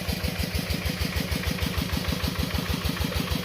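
An engine-driven water pump fitted with a long-tail Phaya Nak-style pipe runs close by, drawing water out with a steady, fast chugging idle and evenly spaced low pulses throughout.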